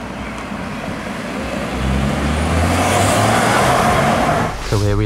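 A 2022 Land Rover Discovery Sport P290 facelift petrol SUV drones steadily while driving, the engine note rising and holding loud and close, with a short shift-like change in tone near the end.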